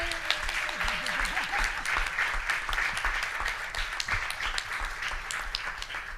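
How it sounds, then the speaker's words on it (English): Audience applause fills a meeting hall at an international seminar in Bali, with steady dense clapping throughout and a few cheers and voices rising from the crowd. "May we give them an applause, please?"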